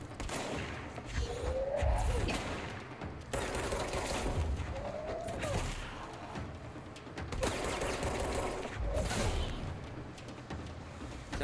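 A basic gun in a shooter video game fires in rapid, sustained bursts, close and loud, with short pauses between volleys and a few brief spoken moments under the gunfire.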